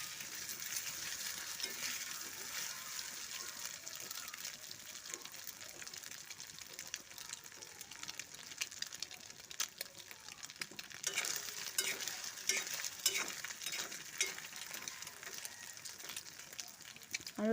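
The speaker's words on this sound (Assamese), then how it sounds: "কণীটো ফ্ৰাই হ'ব দিম।" Egg frying in a pan while making Indian-style masala pasta, a continuous soft hiss and sizzle with faint scraping and stirring clicks, fairly quiet and close throughout.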